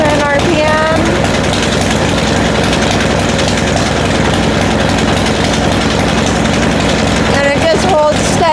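A 1994 Harley-Davidson Dyna engine runs loud and close at around 2,000 RPM, a steady throbbing roar that holds even throughout, with a brief whine near the start and end.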